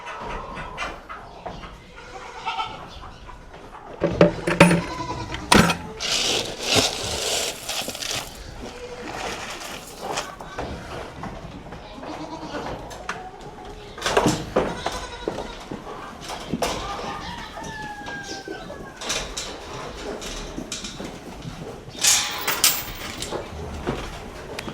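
Goats moving around a farm on a rainy day, with scattered bleats, hoof clatter and sloshing splashes, plus some bumps and knocks near the recorder and occasional talk.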